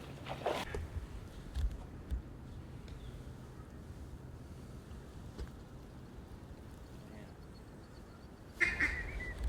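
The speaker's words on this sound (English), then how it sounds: "There's a lot of Mallards." Mallard ducks quack faintly in the distance during an Arkansas duck hunt at Waterloo, a few scattered calls over quiet outdoor background, with a louder burst of calls near the end.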